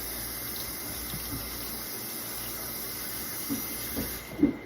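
Cold water running from a tap as a towel is rinsed in a sink, a steady hissing stream with a few small splashes near the end.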